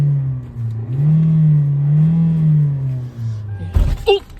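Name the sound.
Hyundai Elantra engine revving in drive, not shifting into gear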